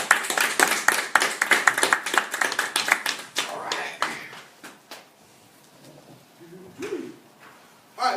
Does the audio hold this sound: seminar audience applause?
yes